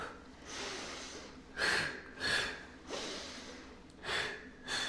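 Several audible breaths during a Pilates and dance conditioning exercise: short, forceful exhales and sharp sniffs in an irregular rhythm, close and fairly quiet, with no talk.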